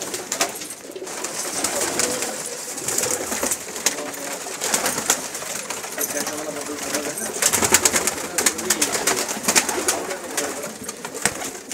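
Pigeons coo continuously in a dense, overlapping chorus nearby, with people talking over the birds throughout.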